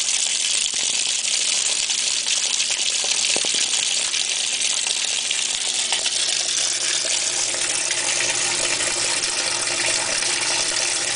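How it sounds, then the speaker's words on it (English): A GE Hotpoint washing machine, model HTWP1400F1WW, runs with water gushing steadily into the tub, a loud, constant hissing flow that continues unbroken throughout, with no talk. "here's our Hotpoint wash machine."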